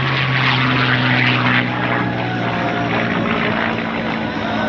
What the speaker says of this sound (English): Nice inverted pass in the P-51.